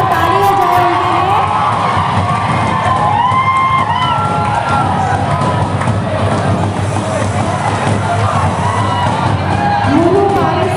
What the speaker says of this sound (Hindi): जोरदार ताली हो जाए उनके लिए।